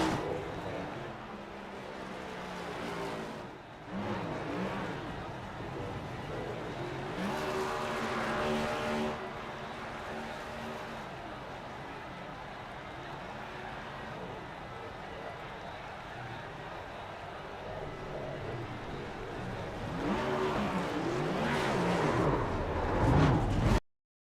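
A race car in the iRacing video game does a victory burnout on the front stretch, its engine roaring and tires squealing steadily, with louder surges near the start and end while a commentator talks over it.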